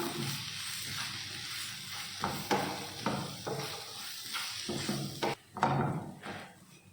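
A spatula stirs a spice mix in a frying pan for a chicken roast, giving soft scraping strokes and a few sharper clacks over a quiet sizzling hiss, close and fairly faint.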